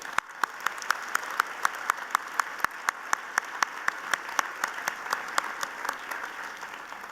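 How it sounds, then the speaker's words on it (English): Graduation commencement audience at Longwood University applauds over a steady crowd wash, with sharp individual claps standing out in a regular, fairly near rhythm throughout. "let's give them a round of applause tonight"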